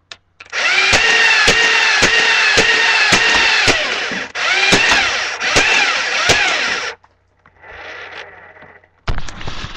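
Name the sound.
Dart Tag Speedswarm motorized dart blaster shooting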